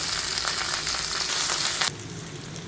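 Onions and green chillies sizzling in hot oil for chicken fry, a dense, steady hiss that drops suddenly to a quieter crackle near the end.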